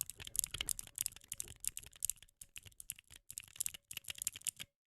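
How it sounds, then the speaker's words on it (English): Rapid clicking of Cherry MX Blue clicky switches on a fidget-toy keychain printed with AFK, a dense, close run of crisp clacks with short pauses between bursts. "It's kind of like a fidget toy, but it has like a keychain on it. But it says AFK. And it uses clicky switches."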